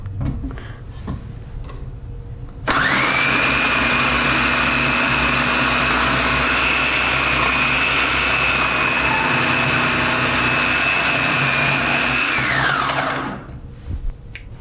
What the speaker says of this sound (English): So I've reversed this disc and now it's on the shredding side. The tube will fit about 3 medium carrots.